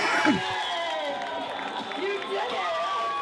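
A hyped-up crowd cheers and whoops after a worm dance, a dense wash of voices holding steady throughout with people shouting over it.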